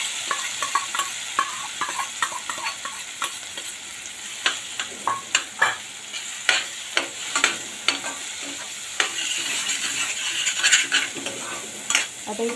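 Cooked moong dal with chillies sautés in a pan over medium heat for a mirchi pakoda filling: a constant sizzle broken by a steady run of spoon scrapes and knocks against the pan, close and clear.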